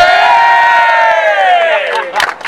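People at a Go Outdoors store opening in Liverpool cheer together, a loud, sustained group yell that fades out and then breaks into a few scattered shouts.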